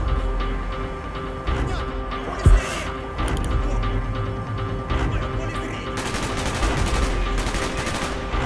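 Gunfire in the video game Call of Duty Black Ops, a dense mix of shots and a sharp close blast near the middle, over continuous combat noise and ambient game sound.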